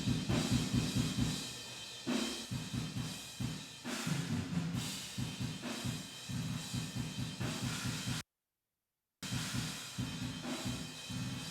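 Drum room mic track from Toontrack Modern Metal EZX, a mono room signal widened to stereo, carrying fast, dense metal drumming with rapid kick hits and cymbal wash, briefly cutting to silence before resuming.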